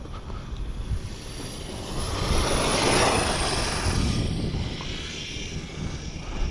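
Kraton 12S off-road RC car racing at high speed and going airborne, a loud continuous high-pitched whine that swells in the middle and then eases, with rough broadband noise throughout.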